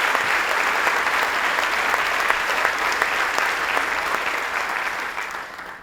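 An audience at a governor's announcement event for a solar factory complex gives Kathy Hochul a big round of applause, a loud, dense sheet of clapping that holds steady and then begins to fade toward the end.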